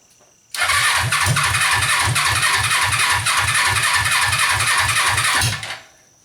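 A Suzuki engine turning over on its starter, a rapid, even, chugging rhythm that runs for about five seconds without catching, then stops, loud and close.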